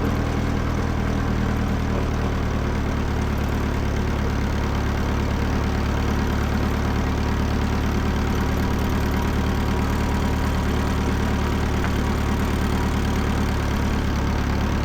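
A 1949 Farmall Cub tractor engine running steadily in third gear with the throttle held a little low, a loud, close, unbroken mechanical drone with a low rumble throughout, no voices.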